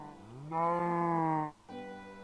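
A cow in the Minecraft video game gives one long, clear, close moo, then a second moo begins right after a short pause, against a quiet background.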